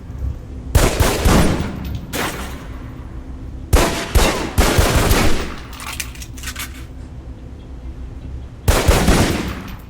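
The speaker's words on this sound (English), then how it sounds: "Equip the pistol, then aim down range and take some shots at the target." Pistol shots fired down a firing range at a target in Alpha Protocol, loud close single reports in separated groups with pauses between, echoing tail after each.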